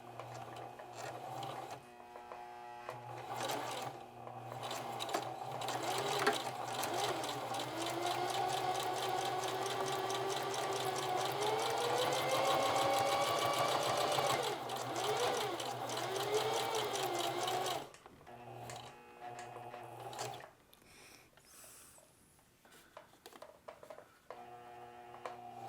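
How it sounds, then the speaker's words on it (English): Sewing machine running a long continuous edge stitch along a flat felled seam, close and steady with a whirring hum that shifts in pitch, then stopping abruptly for a pivot, followed by faint handling noises. "I'm going to edge stitch all the way just to the left of that fold"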